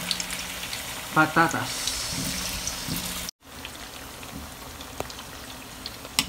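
Potatoes and sweet potatoes fry in a pan, giving a steady crackling sizzle throughout, with a brief spoken word near the start and a short dropout midway.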